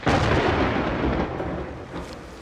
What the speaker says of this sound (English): only for a storm to break and his chance to disappear